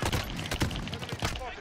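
Rapid shotgun blasts in a video game, several sharp bursts in quick succession over about two seconds, loud and close, with game sounds mixed in.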